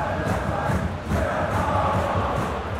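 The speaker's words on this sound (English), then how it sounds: "Crowd appreciates good football all around there." Large football stadium crowd at a Bayern Munich versus Hertha BSC match, a steady dense roar with rising swells of noise throughout.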